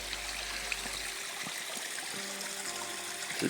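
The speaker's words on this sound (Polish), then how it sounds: "Teraz przekraczamy potok." Steady broadband rushing of a mountain stream on Barania Góra, flowing close by, continuous and fairly quiet with no voices.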